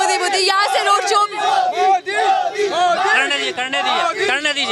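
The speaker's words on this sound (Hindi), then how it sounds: "गाने लग रहे हैं मोदी मोदी" Dense crowd at a Modi road show in India, many voices chanting and shouting together in a loud, continuous roar with rhythmic rises, close and filling the space.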